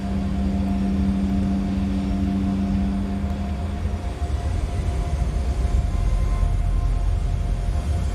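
An Embraer E190 jet begins a rolling takeoff with its cabin engine roar as a loud, steady rumble and hum, a tone fading midway as the broadband roar builds, with no talk over it.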